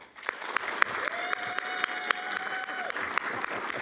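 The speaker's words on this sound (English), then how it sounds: "Let's give them all another round of applause." Applause from attendees at a county commissioners board meeting honoring staff certificate recipients, moderate steady clapping with distinct individual claps standing out, and a faint tone running through the middle.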